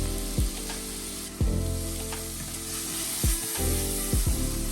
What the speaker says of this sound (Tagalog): Sa isang medium pan, igisa po natin ang pork belly.